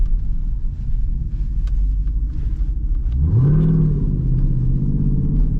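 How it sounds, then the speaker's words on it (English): Straight-piped Jeep SRT engine idling with a deep rumble, then revving up hard and holding a loud, droning exhaust note close by. "I just want y'all boys to see what this straight pipe done did to the Jeep"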